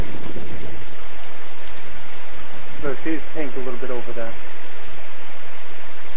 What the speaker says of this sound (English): right now, it is pouring like crazy